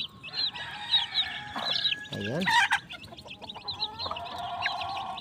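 A mother hen clucks softly while newly hatched chicks peep high and rapidly as they peck feed scattered on the ground, all close by, with a brief spoken word from a person.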